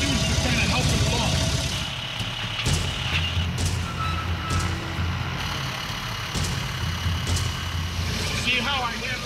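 A dump truck's heavy engine runs steadily while winching a vehicle out of the mud, with intermittent beeps and clanks over the low rumble, close and loud.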